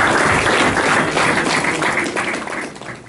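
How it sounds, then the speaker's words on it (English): A high school audience applauding for John Ross in a school gathering, a dense, steady wash of clapping from many hands that fills the space and tapers slightly toward the end. "give a round of applause once you meet Mr."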